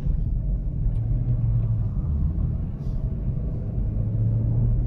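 Chevrolet Vectra on 20-inch wheels with 215/30 tyres and air suspension pulls away hard from a standstill, a loud, steady low engine rumble filling the cabin with no talk.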